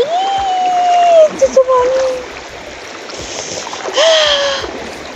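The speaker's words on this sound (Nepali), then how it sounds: "अब म चाहिँ यहाँ खोला तर्छु" Water sloshes and splashes as someone wades across a cold mountain stream in the morning chill, with steady flowing water throughout and a sharper splashing burst near the end, while a voice calls out over it.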